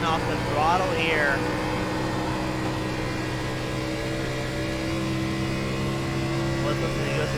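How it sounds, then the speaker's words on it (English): A sim racing car's engine in a video game holds a steady droning tone as the driver lifts off the throttle, with brief pitch sweeps early on. A commentator talks over it throughout. "You can hear how hard he's lifting off the throttle here."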